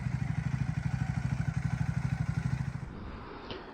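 A Triumph Scrambler 400 XC single-cylinder motorcycle engine chugs loudly and closely with a rapid, even pulse, then the beat drops away toward the end.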